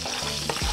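Oden pieces sautéing in a hot pan for pineapple pajeri, a short burst of steady frying sizzle with a brief stir scrape near the end, close and fairly loud.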